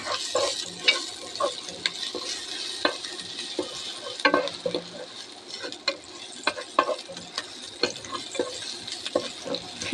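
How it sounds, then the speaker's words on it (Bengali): Chopped chili fries in a pan for vegetable noodle soup, a faint, steady sizzle broken by scattered clicks and scrapes of stirring, close by, with no voices. "হালকা বাদামিভাবে ভেজে নেব।"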